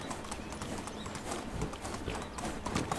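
In the medieval survival game Medieval Dynasty, a horse's hooves clip-clop loudly and continuously, a dense run of hard strikes with no pauses and almost no voice over them.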